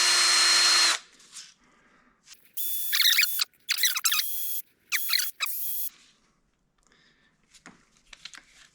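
Sanding with 400 grit abrasive to smooth hammer marks out of a stripped screw head, heard as several short bursts of a high, hissing power-tool whine separated by pauses, loud and close with no talking.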